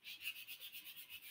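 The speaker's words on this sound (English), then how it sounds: "I'm gonna go ahead and sand this whole headstock down." Hand sanding the wooden headstock of a banjitar during restoration, a quick, even series of about ten soft scratchy strokes, close and faint, with no voices.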